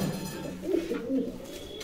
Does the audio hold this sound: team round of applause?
no